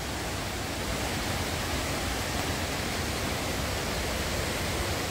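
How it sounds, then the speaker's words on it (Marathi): A river flows past a Shiva temple, giving a soft, steady rushing wash of water that stays even and continuous with no voices. "बघा नदीच्या पाण्याचा मस्त आवाज येतोय"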